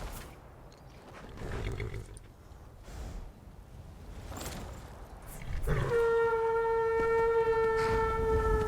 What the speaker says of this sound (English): Yes, I'm sorry I shouted at your horse, Ditaku.